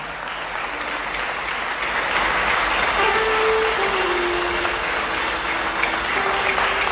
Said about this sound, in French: un bel applaudissement pour toute femme.